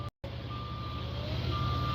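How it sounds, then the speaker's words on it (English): A gravel truck backing up sounds a steady repeating reversing beep over a continuous low engine rumble, with a brief cut of silence near the start. "You can hear the gravel truck backing up."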